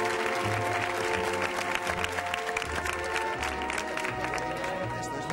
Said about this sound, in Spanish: Venga, si te damos un fuerte aplauso seguro que te anima.